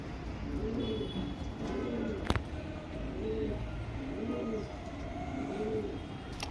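A male Sabja pigeon from an old lineage coos in a steady, rolling rhythm over roughly five repeated phrases, with a soft hiss of room noise behind it and one sharp click partway through.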